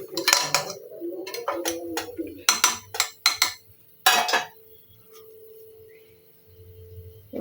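A spoon stirs chicken with crushed cardamom in a pressure cooker pot, producing a cluster of close metallic scrapes and clanks in quick bursts, then fading to a quiet hum.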